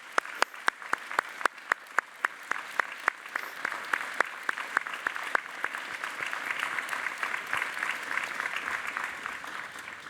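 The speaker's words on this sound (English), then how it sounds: "Graduates, please join me in giving them a warm round of applause to extend our wholehearted thank you." Applause at a university graduation ceremony begins with a few sharp, distinct claps that quickly swell into a dense, steady round of clapping from a large audience.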